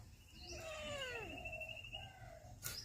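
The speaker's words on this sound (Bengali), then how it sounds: "ম্যাও মেয়াও করছে বারবার" A cat gives a few drawn-out, wavering meows, faint and somewhat distant, followed by a brief sharp noise near the end.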